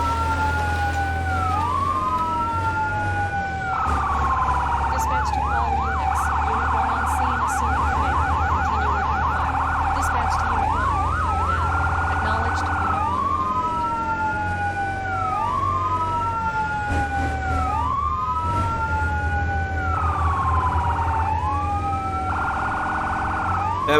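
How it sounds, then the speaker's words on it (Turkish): A loud fire truck siren in a firefighting video game wails continuously, alternating between sweeping tones and rapid yelps, with a steady engine-like hum underneath and no talking. "Evet sirenimizi açtık."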